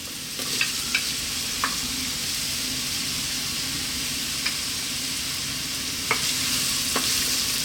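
Onion frying on high heat in sunflower oil with ginger, a constant close sizzle broken by several sharp scrapes and taps of a utensil stirring the pan.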